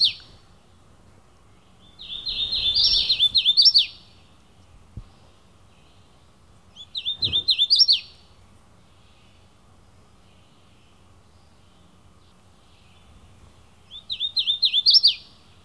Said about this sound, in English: That lovely singer is the hooded warbler.